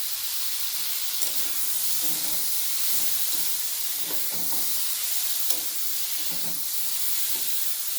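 Spices with Kashmiri chili powder sizzling in hot oil in a pan, a steady bright hiss close by with soft stirring scrapes and clinks scattered throughout.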